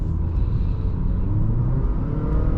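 A 2019 Acura ILX with a naturally aspirated 2.4-liter four-cylinder pulls hard under acceleration, a steady close engine drone and road rumble that holds loud throughout with no talking.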